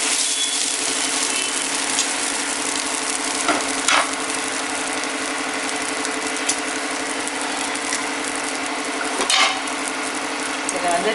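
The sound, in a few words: egg poured over dosa batter sizzling on the pan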